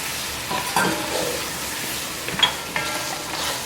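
Mutton pieces fry with whole spices such as fennel seed in a pot, giving a continuous soft sizzle, broken by a few sharper stirring scrapes and clinks near the middle.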